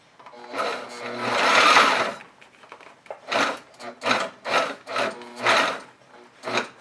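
A sewing machine stitches through six layers of thick material for a 4x4 winch cover, running in a long steady burst, then in a series of short, evenly spaced slow pulses, loud and close.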